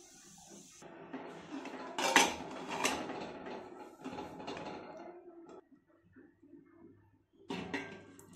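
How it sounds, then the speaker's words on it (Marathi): The lid comes off a cooled pressure cooker holding green moong dal and rice khichdi, giving close metallic clanks and scraping clatter in a short burst, then a quieter pause and one more clink near the end. "आता आपण याचं झाकण काढू।"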